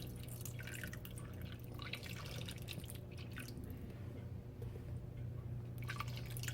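Water from a 20-ounce plastic bottle pours into an Instant Pot electric pressure cooker holding pasta and meatballs, a faint continuous splashing and trickling with a low steady hum beneath, and no talk.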